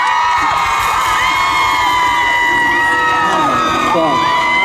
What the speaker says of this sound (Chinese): 尖叫声再一次